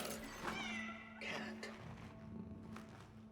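A cat in the video game Cronos: The New Dawn meows a few times, drawn-out plaintive calls set against a steady low game hum, fairly quiet.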